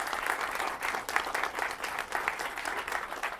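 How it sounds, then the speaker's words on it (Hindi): Loud applause welcoming guest poets at an Independence Day poetry gathering, a crowd clapping vigorously with a rippling, uneven pulse, sustained throughout without any voices over it. "जरा जोरदार तालियों के साथ इन तमाम खास मेहमानों का स्वागत कीजिए।"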